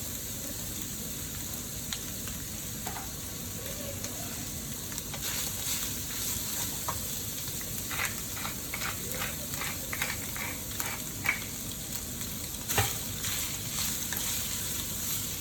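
Ground meat fries in a skillet with a steady, soft sizzle and occasional crackles, while a utensil stirs and scrapes now and then in a quiet kitchen.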